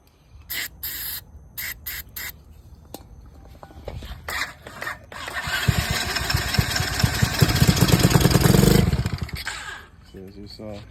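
Coolster 110 pit bike engine with a fuel issue sputtering and starting, brief clicks and bursts building to a rough running buzz that swells for a few seconds, then cuts out, with birds chirping nearby.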